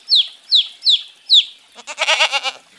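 Four sharp, evenly spaced descending chirps sound up close, followed by a rapid bleating, clucking burst of farm animals, loud and alone with no talk.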